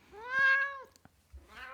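A cat clinging to its owner meows up close: one drawn-out, clear meow, a short quiet gap with small clicks, then the start of a second meow.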